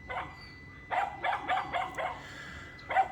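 A dog in the Philippines barks several times at close range, with short, sharp barks in a loose cluster, a pause, then one final bark.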